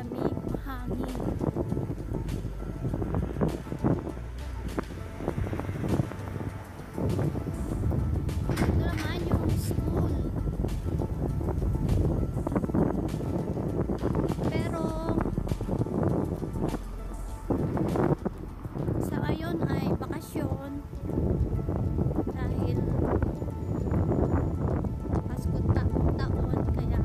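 Steady gusty cold wind buffets the microphone with low rumbling roar near mountains in Dionysos, Greece, while a person talks intermittently over it.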